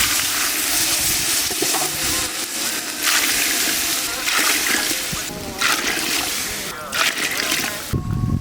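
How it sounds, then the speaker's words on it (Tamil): Water poured into a cooking pot of dal over an outdoor riverside cooking fire, a steady close splashing and sloshing that runs throughout, with a voice speaking over it. "தண்ணி ஊற்றிக்கலாம்."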